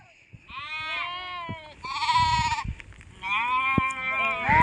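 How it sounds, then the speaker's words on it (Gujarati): Goats and sheep bleating in the rain among a flock, several loud, close, wavering calls that overlap and follow one another in quick succession. "આમાં વિડીયોમાં તમને થોડોક બકરાનો જાજો બધો અવાજ આવતો હોય છે, કારણ કે નકરું મેં કરે છે"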